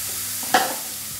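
Chopped zucchini sizzle softly in a pan, with one sharp scrape of stirring cutting through the quiet frying.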